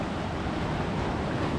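Surf crashing in at Milolii Beach Park on Hawaii's Big Island, with swells of three to four feet rolling in; a steady, loud wash of breaking water with wind noise, and no voices.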